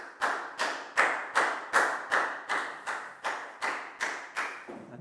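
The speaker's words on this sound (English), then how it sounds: "Big round of applause for Preo" A Year 4 class claps in unison for a pupil, about eleven loud, evenly spaced synchronized claps in a steady rhythm, each ringing briefly in the classroom.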